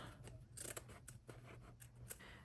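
Scissors snip through denim jeans to trim excess fabric, several crisp close cuts in an uneven rhythm with no voices.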